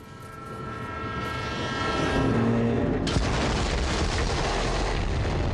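A train in the video game Borderlands 3 rumbles steadily past with a long horn blast, then a sudden burst of roaring noise as it continues on.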